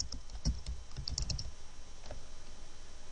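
Quick clattery keystrokes on a computer keyboard while a search term is entered, a short burst of close typing over a steady low room hum, then quiet.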